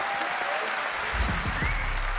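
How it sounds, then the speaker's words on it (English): Applause from an audience at a Gran Turismo World Series finals event, a steady wash of many hands clapping at a distance, constant and moderately loud over a low rumble. "Let's give them all a big one round of applause before they start"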